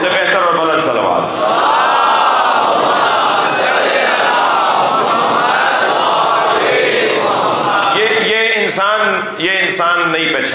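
A large gathering loudly recites salawat in unison, a dense roaring chant of many voices sustained throughout and then breaking into rhythmic shouted phrases near the end.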